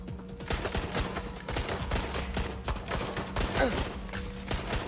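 Rapid gunfire in the video game Valorant, a clattering fusillade of close shots in quick bursts with steady intensity over a few seconds, no one speaking.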